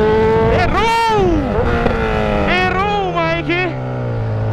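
A Honda CB1000 motorcycle engine revs hard and high, dropping and climbing in pitch several times, then settles into a lower drone, close by.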